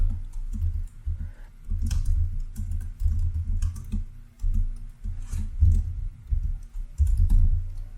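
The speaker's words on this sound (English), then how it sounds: "Let me type it." Steady typing on a computer keyboard, close and clear, with uneven clusters of key clicks and short pauses, no voices.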